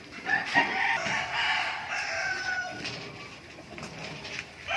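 Several hens cluck and murmur continuously nearby on a pig farm, with occasional sharper calls, and no voices.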